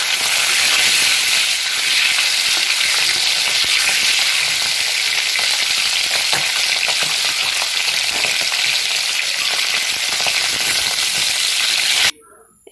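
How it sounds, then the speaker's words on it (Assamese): Duck eggs coated in salt and turmeric frying in a hot kadai, a loud, continuous sizzle and crackle of oil with no talk, cutting off abruptly at the end. "এয়া কেৰাহী গৰম কৰিলোঁ, তাত ডিমকেইটা প্ৰথমে ভাজি ল'ম।"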